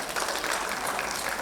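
An audience at a Chaitramas 2025 stage programme breaks into dense, sustained clapping that stays evenly loud through the short burst.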